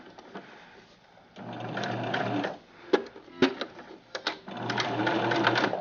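A sewing machine stitches fabric for a stuffed bunny toy in bursts of rapid mechanical whirring. Pauses between runs bring a few sharp clicks and taps.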